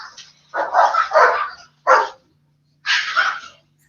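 Dogs barking in a hallway, several loud close barks in quick bursts with brief pauses between them, then one more bark, over a faint steady hum.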